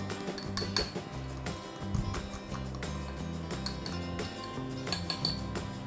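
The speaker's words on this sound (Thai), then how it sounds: "หลังจากนั้นเราก็คนส่วนผสมให้เข้ากันครับ" A passion fruit ice pop mixture with salt is stirred in a container, giving a busy run of clinking and scraping utensil knocks, close and fairly loud, with no voices.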